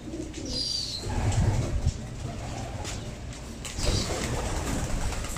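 Pigeons coo in low, soft repeated murmurs close by, with a few brief chirps and rustles mixed in against a steady outdoor background.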